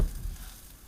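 Onion sizzling and starting to caramelize in a pan while cooking lemon rice pilaf, a steady close crackling fry with no voices.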